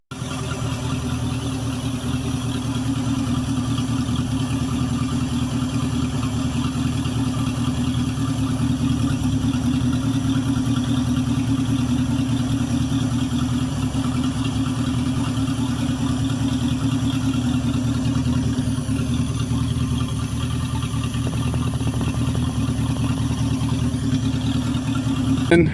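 A 1951 Packard straight-eight engine idles steadily and close by, a constant low rumbling drone that holds for the whole stretch.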